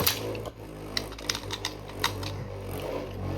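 Beyblade X tops launched into a stadium, spinning with a steady whir and a series of sharp clicking collisions against each other and the walls, fairly close.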